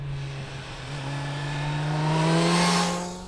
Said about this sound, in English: And then you jump onto the Kawasaki and it makes that great induction noise.